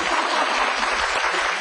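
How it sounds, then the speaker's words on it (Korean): A studio audience on a talk show gives a dense, continuous burst of clapping. It is loud and even, with no voices heard over it. "웬만하면 박수도 한번 쳐주시지."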